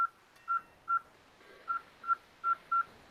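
Short, thin electronic beeps in a basement setting, about eight of them at uneven intervals over a quiet background, faint and steady in pitch with no talking.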